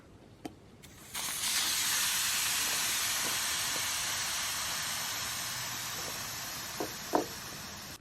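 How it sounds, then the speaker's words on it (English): Air rushing out of an ATV tire with the valve stem core removed, a steady loud hiss that starts abruptly after a second and holds while slowly fading, with a couple of small clicks and knocks around it. "Use a little tool to take out the valve stem or just deflate the tire."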